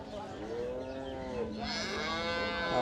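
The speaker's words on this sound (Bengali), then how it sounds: "এখানে একটা ছেলে বাচ্চা সহ গাভী দেখছিলাম" A crossbred dairy cow with a male calf moos at a rainy cattle market, one long drawn-out low call, loud and close, with no one talking over it.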